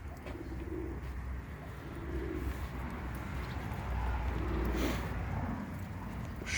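Soft, low homing pigeon coos repeat every few seconds over a steady background hum, fairly close and moderately quiet.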